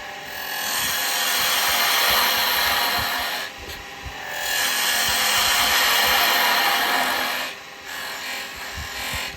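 Wood lathe turning a Christmas decoration with a carbide tool, a steady loud scraping hiss that runs continuously, dipping twice briefly before resuming.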